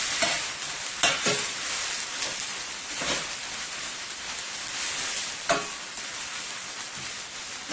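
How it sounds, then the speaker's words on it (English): Seasoning frying in a pan for a Caribbean lamb stew: constant loud sizzle with occasional stirring clatters, close by and with no talking. "So I'm going to let this continue to fry."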